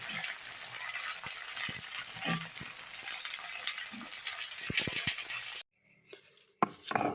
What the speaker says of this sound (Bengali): এখন ভেন্ডিগুলো দিয়ে দিলাম একটু লবণ দিব আর একটু হলুদ দিব